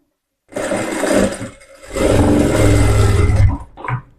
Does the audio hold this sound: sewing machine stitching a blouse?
yes